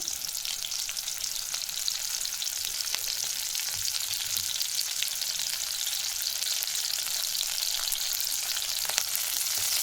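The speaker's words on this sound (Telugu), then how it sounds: "ఎర్రగడ్డలు ఫ్రై చేసుకుంటాను." Onions sizzling steadily in a little oil in a pan while cooking mutton sambar, a continuous bright crackling hiss that stays even and close throughout, with no talking.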